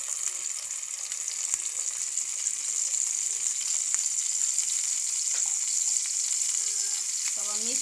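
Rohu fish pieces fry in hot oil, giving a loud, continuous sizzle with steady crackling throughout and no talking.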